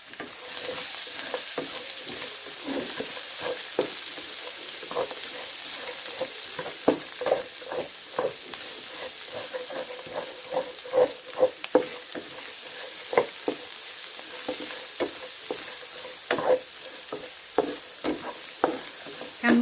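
Shallots, garlic and ginger fry in a pan for Thai chicken rice, a steady sizzle broken by frequent scraping stirs from a utensil, close and fairly loud, with no voices.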